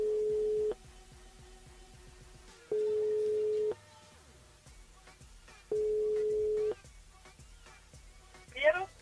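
Telephone line tone during a callback to a listener on live radio, three long steady beeps separated by pauses of low background hiss, followed by a short chirp at the end.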